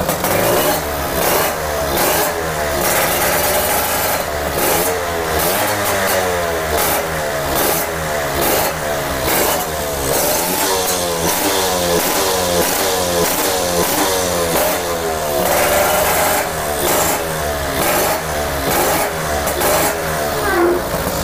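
Loud, close Yamaha Alfa motorcycle engine running through a modified cannibalized exhaust, a rough steady idle with repeated throttle blips and revs throughout, no talking.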